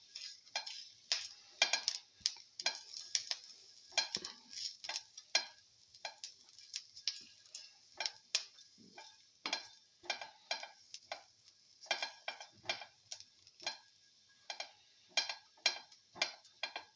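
A spoon scrapes and taps in a pan while something sautés for a tomato coconut yogurt dish, irregular quiet ticks and scrapes over a faint sizzle, close with no talk.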